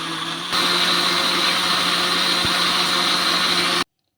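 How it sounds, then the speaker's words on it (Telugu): A kitchen mixer grinder blends leftover cooked rice into dosa batter, whirring loudly and steadily for about three seconds before cutting off abruptly into silence. "ఇప్పుడు మిక్సీ పట్టేసుకుందాం"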